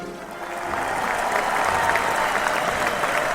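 Studio audience applause during a live sports talk radio show, a steady dense wash of clapping that holds loud and even for the whole stretch with no voices over it.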